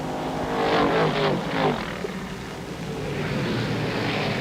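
Stock cars roar past during the 1961 NASCAR Firecracker 250, around the 70th lap. Several loud engine passes sweep by in quick succession, then fade into a steady distant drone.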